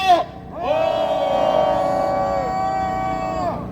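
A crowd at an outdoor press conference lets out a loud, sustained collective shout for about three seconds, many voices holding one cry together before it cuts off, preceded by a brief voice.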